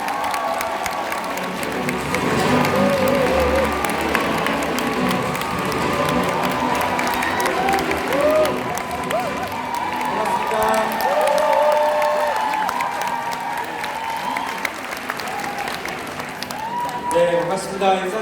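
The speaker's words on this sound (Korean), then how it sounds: "큰 박수로 모시겠습니다" A business presentation audience welcoming a speaker with loud clapping and cheering from a large crowd, with scattered shouts and whoops and talking mixed in throughout.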